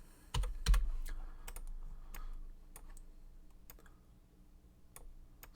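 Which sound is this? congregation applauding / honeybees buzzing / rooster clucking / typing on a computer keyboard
typing on a computer keyboard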